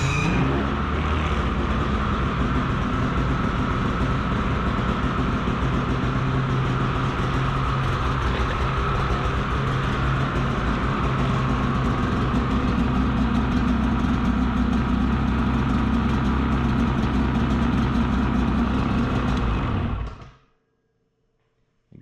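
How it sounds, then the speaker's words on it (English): A snowmobile engine, a MATRYX Indy VR1 sled, runs at a steady loud idle for about twenty seconds and then cuts off abruptly, leaving near silence. "So I got to start the machine."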